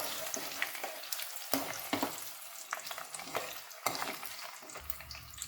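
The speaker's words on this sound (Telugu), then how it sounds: "ఇప్పుడు దంచి పెట్టుకున్న వెల్లుల్లిపాయలు కూడా వేసుకొని ఫ్రై చేసుకోవాలి." Crushed garlic crackles and sizzles in hot oil for tomato pickle, a close continuous frying hiss broken by repeated scraping stirs of a spoon against the pan.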